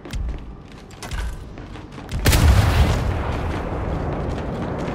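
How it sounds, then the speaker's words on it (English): A bomb goes off in the video game Gears 5: a sudden, heavy blast hits midway, followed by a sustained, roaring rumble of debris and fire, loud and close after quieter rumbling before it. "Bomb went off. Right on schedule."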